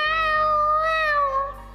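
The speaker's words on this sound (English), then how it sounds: "Meow, meow, meow." A cartoon cat gives a single clear, drawn-out meow, loud and close against a faint background tone, with no talking.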